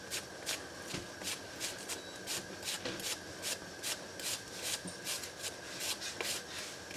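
An onion being scraped into very thin slices makes a steady, dry rasping, rapid strokes repeating evenly for several seconds, close but quiet, with no talking.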